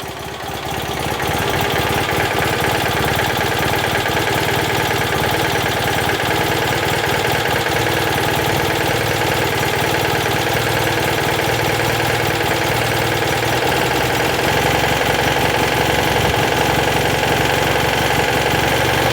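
A Citroen 2CV's small air-cooled twin idles steadily after a carburettor upgrade, the carburettor freshly run after long disuse; a loud, continuous buzzing thrum with a slightly uneven beat runs close-up and alone throughout.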